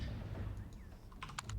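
Quick bursts of computer keyboard typing during a game livestream, a few crisp key clicks clustered near the end over a soft background hum.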